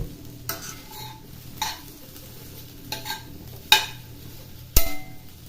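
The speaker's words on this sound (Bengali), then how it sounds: "এখন ডিমটা ক্যাপসিকামের সাথে মিশিয়ে নেব" Egg and capsicum being stirred together in a pan with a spatula, giving occasional scraping strokes over a faint sizzle, plus a couple of sharp metallic clinks near the end.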